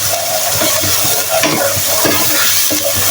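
Escarole frying and being stirred in a pan, a steady close sizzle with repeated scraping stir strokes throughout, no voices.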